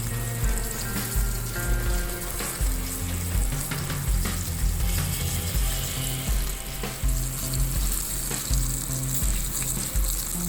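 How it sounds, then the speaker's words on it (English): Loud, steady sizzling of ribeye steak frying in butter in a hot cast iron pan, a continuous crackling hiss with occasional scraping, no talking. "Good sizzle going."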